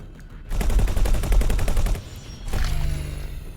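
Ship turrets fire in the space game X4 Foundations, a rapid, sustained burst of repeated shots for about a second and a half, then a second rumbling volley, loud and close, with no talking.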